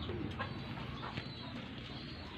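Pigeons cooing softly in a loft during feeding, a dense low murmur of calls with faint wing and shuffling noise, steady and close throughout.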